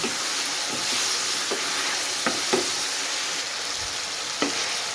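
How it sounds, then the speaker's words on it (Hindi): Ginger garlic paste sizzles steadily in a karahi for afghani chicken karahi, a close, even frying hiss with a few soft scrapes of a stirring spoon. "जिस तरह के अदरक लहसुन का पेस्ट भी अच्छी तरह इसमें ब्राउन हो चुका है"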